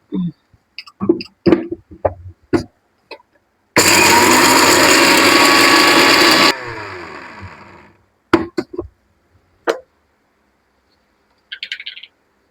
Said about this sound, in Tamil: மிக்சி ஜாரில் போட்டு நல்லா நைஸாக ஒரு ஃபைன் பவுடராக அரைச்சி எடுத்துக்க போகிறோம்